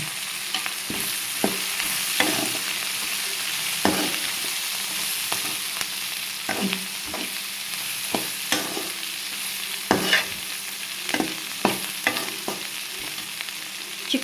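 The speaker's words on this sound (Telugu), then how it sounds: "చిక్కుడుకాయలు అనేది ఇంకొంచెం ఫ్రై అవ్వాలండి" Broad beans (goduchikkudu) frying in a pan with turmeric, a steady close sizzle broken by repeated scraping and clacking stir strokes, no voices.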